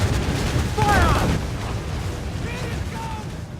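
Cannon fire in the naval combat of Assassin's Creed IV Black Flag rumbles as a low, heavy boom that rolls on over several seconds, while crew members shout nearby.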